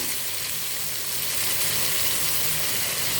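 Onions sauté in a pan with salt and turmeric, sizzling in a constant, close hiss that holds steady throughout with no voices.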